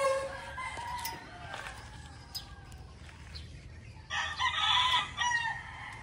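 Several white Kelso gamefowl roosters crow in a breeding pen, a few mid-distance crows with clucking in between and a louder, closer burst toward the end, over steady outdoor background.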